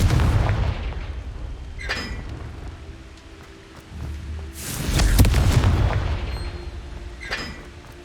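Two heavy booms from the Confringo fire spell in Hogwarts Legacy, one near the start and a bigger one midway, each a loud blast rolling off over low rumble, with a faint crackle between.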